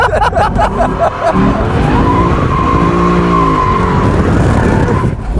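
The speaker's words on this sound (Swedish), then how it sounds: "Och den sladdar ju på raksträckan" A Lexus LC 500 Convertible skids on a straight, its tires squealing in long wavering howls over a loud engine roar, close and intense, with a brief voice near the start.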